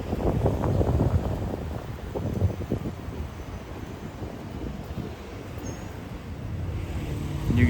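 Steady outdoor wind buffets the microphone on a warm, sunny Miami South Beach day, a continuous low rumble with gusty swells and no talk.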